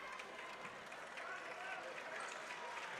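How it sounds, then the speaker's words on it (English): A gym crowd at a high school girls' basketball game between Upperman and Livingston Academy gives steady applause for a player fouling out, a broad even wash of clapping with voices mixed in throughout. "And she will get a round of applause."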